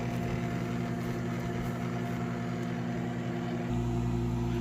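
A steady electrical hum with a low drone from a microwave oven running nearby with a bar of Ivory soap inside. The tone shifts slightly near the end, and nobody speaks.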